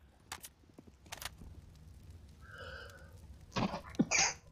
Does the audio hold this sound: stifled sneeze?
yes